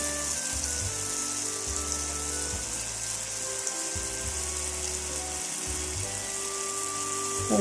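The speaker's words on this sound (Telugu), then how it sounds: "మన దగ్గర ఉన్న గవ్వలన్నీ ఇలానే కాల్చుకుందాము మొత్తము ఇట్లా ఒక్కొక్కటి కాల్చుకోవాలి" Gavvalu, small shell-shaped snacks, frying in hot oil as a steady, soft, hissing sizzle with a low underlying rumble, continuous throughout and without talk.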